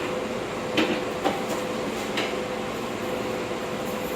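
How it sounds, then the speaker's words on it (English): A New York subway 7 train at the 34th Street station idles with a steady low hum and ventilation drone, broken by a few short metallic clanks and hisses. "Train's about to pull off"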